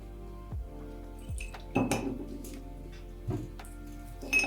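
A spoon scrapes and clinks against a container while glue and water are stirred together for a macramé craft, giving a few distinct knocks and rattles spaced across several seconds, close and moderately loud, with no talk.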